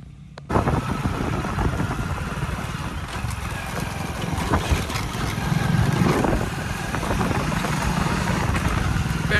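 Motorcycles pass along a village road, a steady engine drone rising and swelling as vehicles go by at moderate distance, continuous throughout with faint background noise.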